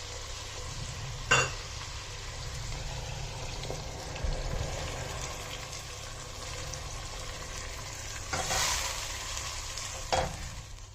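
Chicken Manchurian being mixed with sauce in a hot pan: steady sizzling with scraping stirs, a few sharper clinks of the utensil against the pan, no voices.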